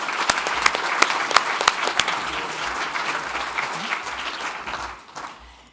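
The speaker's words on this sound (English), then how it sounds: "Join me one more time in offering one more round of applause for Dr. Wang, Kent McGuire, and Tom Stewart" An audience at a college awards ceremony applauds its recipients with steady clapping and a few sharp individual claps standing out near the front, before the applause dies away.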